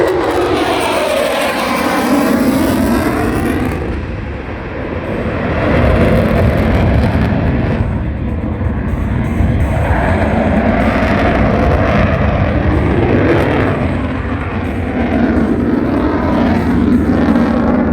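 An RAAF F-35A Lightning II fighter jet makes a flypast at an airshow, its loud roaring engine sweeping across with a shifting, wavering pitch that builds and lingers as it passes.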